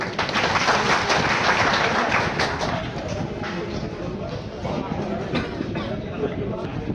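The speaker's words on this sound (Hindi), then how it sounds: "नितिन साहब के जोरदार ताली हो जाए" An audience in a hall applauds a doctor at a tuberculosis awareness talk, with loud, sustained group clapping and crowd chatter mixed in underneath.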